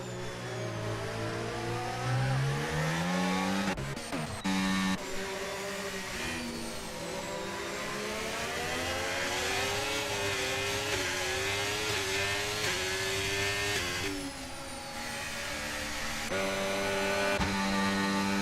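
Engines of F1 race cars in the F1 2025 video game scream past one after another, with pitch swells and falls as they go by on the Netherlands circuit, loud and continuous with no talk.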